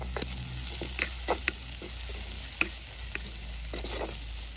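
Green chillies and onions fry in a pan for a beetroot leaf stir-fry, giving a steady low sizzle with scattered small pops and light stirring clicks throughout.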